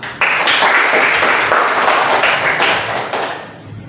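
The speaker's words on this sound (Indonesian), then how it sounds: "Oke, kita beri aplaus untuk kita semua." A classroom group claps together in a brisk, dense burst that runs for several seconds before tapering off toward the end, loud and close with no talk.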